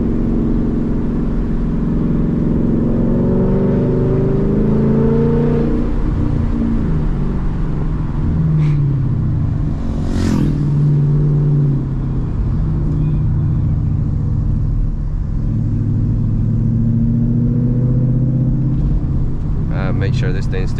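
Ford Mustang GT cruising around a lake at sunset, its engine rumbling steadily up close from inside the car, swelling and easing with the throttle for the whole stretch, with someone talking over it at times.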